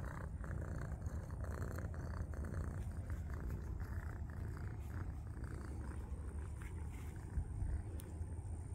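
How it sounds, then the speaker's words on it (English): Cat purring loudly and continuously right up close, a deep steady rumbling purr with no talk over it. "He purrs loud just like Nacho."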